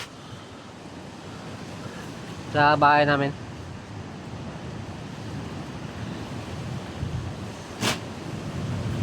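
Strong wind and surf roar at the shore during a storm, a continuous rough wash of noise with gusty surges. Someone speaks briefly partway through.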